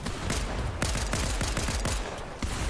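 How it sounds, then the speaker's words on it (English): Mythic Pistol gunfire in a competitive Fortnite match, a quick run of sharp shots in an uneven rhythm, with several bursts close together and a final shot after a short pause, loud against steady game background. "A Mythic Pistol coming in clutch."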